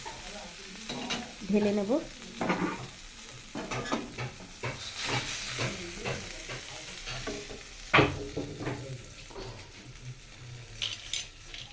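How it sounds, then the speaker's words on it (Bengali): Dried fish (shutki) frying in a pan, with steady sizzling, repeated stirring scrapes and occasional utensil clinks, fairly close. A brief spoken phrase is heard near the end. "তাহলে একটু লাল লাল করে ভেজে নিই"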